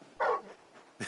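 Torgal, a very large dog in a fantasy video game, gives a brief whimpering yip followed by a second short sound, close and fairly quiet.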